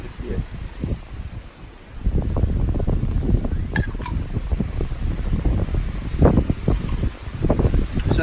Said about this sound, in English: You feel the breeze up here? Yeah, man. Always windy.